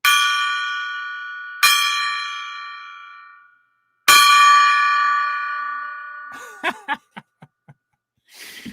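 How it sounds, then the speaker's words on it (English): A golden gong is struck three times, each ring a bright, sustained metallic tone that decays slowly and resonates, followed by a few short clanks at the end. "Three rings of the gong."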